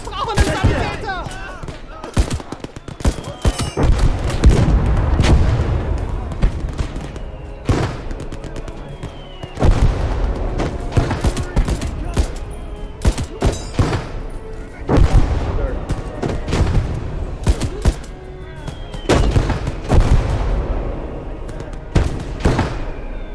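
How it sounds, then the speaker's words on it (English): Artillery fire and explosions in the World War II game Gates of Hell, with heavy booms, rapid gunfire bursts and blasts crowding one after another, loud and close, and soldiers shouting under the battle. "Here's artillery!"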